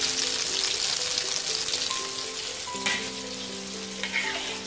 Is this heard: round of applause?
no